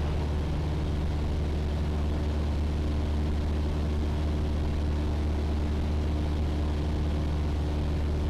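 A Piper Seneca flies the traffic pattern at an airport, its engine drone a loud, steady low hum with constant buzzing overtones that continues unbroken throughout, with no talk.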